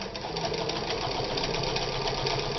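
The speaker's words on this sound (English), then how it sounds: "It's going to be a very good first sewing machine." A deluxe 195 straight-stitch sewing machine runs steadily, a loud, close, continuous mechanical whir with a fast even stitching rhythm and no speech.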